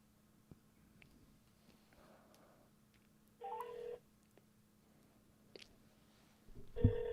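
An unanswered phone call rings on a line: brief tonal ring bursts separated by quiet gaps, faint and tinny as through a phone speaker, with a louder tone near the end.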